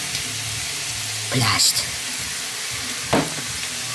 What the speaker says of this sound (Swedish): Jag hackar lite i köttfärsen.